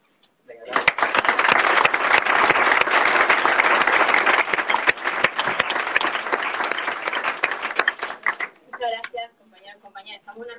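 A burst of loud, dense clapping erupts at a Spanish PSOE party press conference in Jerez, holding steady for several seconds before thinning into scattered claps as a voice begins speaking near the end.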